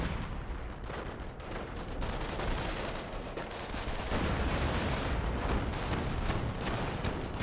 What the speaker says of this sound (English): just firing a barrage generally back there